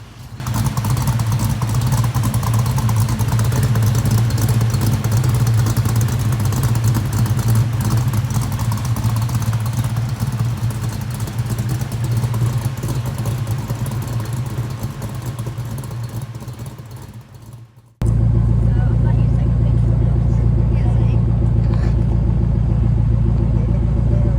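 Grey Ghost muscle car fitted with an Anderson N91 engine rumbling loudly and steadily at close range, a deep continuous throb that drops away briefly and then returns just as heavy, no talk.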